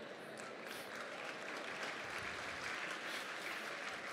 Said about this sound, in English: And give yourselves a nice big round of applause.